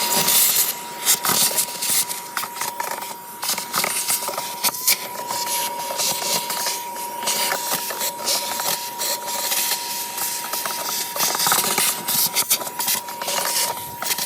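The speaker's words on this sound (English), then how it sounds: "I'm also going to vacuum that out" A vacuum runs while cleaning out the dirty air filter housing of a 2021 Chevrolet Blazer RS, a steady whine with repeated scraping and knocking as the nozzle moves around, close and loud, without talk.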